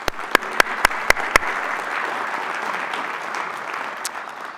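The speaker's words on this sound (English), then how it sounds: "let's give him a round of applause." Conference audience applauding: a few sharp individual claps at the start swell into a sustained, steady wash of clapping from a large room, loud and continuous with no voices over it.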